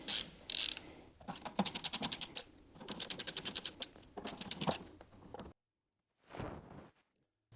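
A screwdriver backs out Phillips head screws from a classic Ford Mustang window seal kit, giving rapid ratcheting clicks in several close, steady runs, then a short pause and one last brief burst.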